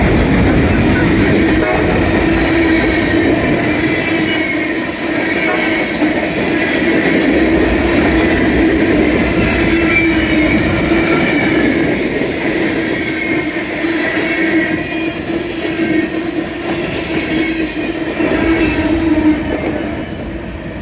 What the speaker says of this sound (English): Well, here's Fire Larry and Charlie, and we caught a train here in Ashland, Virginia at the Ashland train depot.